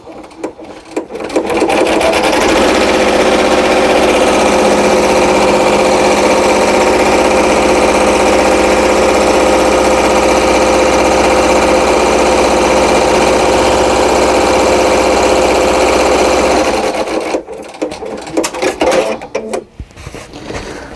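An embroidery machine stitches a placement line for a spring hexagon table runner, running as a loud, steady mechanical whir for about fifteen seconds before stopping, with no one talking.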